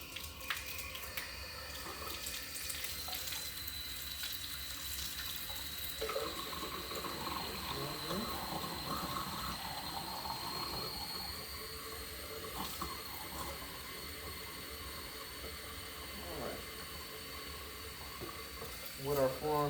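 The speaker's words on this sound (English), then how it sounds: "we'll turn the water on warm." Warm water running from a sink tap during handwashing for infection control, a continuous splashing hiss that goes on throughout, with soft handling noises mixed in.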